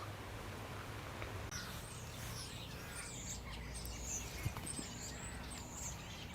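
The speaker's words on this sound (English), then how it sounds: "I don't know if you can hear the birds, but they are on my sequoia tree." Several birds chirp and tweet in quick bursts from a nearby sequoia tree, over a low steady background hum.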